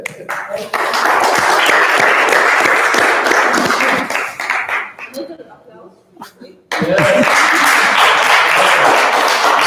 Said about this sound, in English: A big applause to yourself.